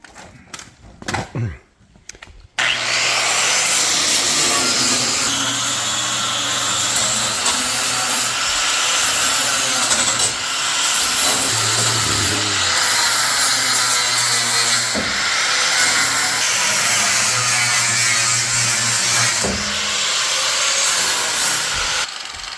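Scraping and prying at thick body putty on the body of a Bombardier bus, a steady loud grinding rasp that runs almost continuously after a short quiet start.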